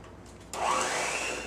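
An electric mixer kicks on and whirs steadily, beating a cream cheese and egg yolk mixture for strawberry crumble bars, a close, continuous buzzing drone after a quiet start.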